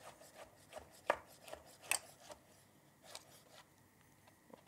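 A knife finely slices a rolled-up bundle of glazed ham on a board, a run of soft, irregular chopping taps with a few sharper cuts, close and quiet, no talking.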